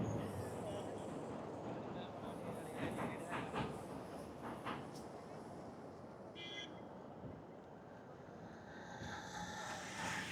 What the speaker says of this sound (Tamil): பாம்பன் பாலத்தில் ட்ரெயின் போகிறத பார்க்கணுன்னு நினச்சேன், பார்த்தாச்சு